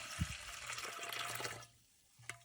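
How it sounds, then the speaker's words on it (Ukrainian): Dissolved fertilizer solution for rose care pours into a small garden sprayer tank, a close splashing, gurgling stream that tapers off, followed by a brief knock of the container. "Тепер заливаю в бачок"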